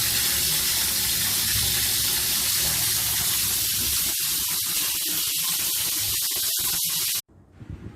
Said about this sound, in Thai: ข้อต่อขาดภายใน น้ำไหลไม่หยุดเลยต้องแก้ไขเดือด